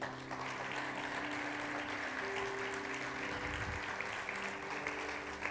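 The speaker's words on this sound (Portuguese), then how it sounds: "Você pode aplaudir ao Senhor?" A church congregation applauds the Lord during a worship celebration, a soft, steady spread of clapping with low sustained musical tones underneath.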